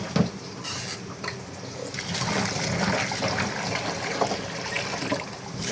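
Small cut potato pieces are washed under running water in a home kitchen, giving a continuous close trickle and splatter with occasional clinks and splashes throughout.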